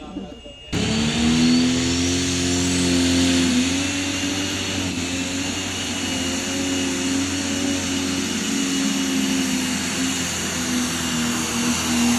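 A New Holland T8 Tomcat pro stock pulling tractor engine with a 6.4-inch turbo roars loud and close, revving hard with a sustained droning whine after a sudden start, heard alone.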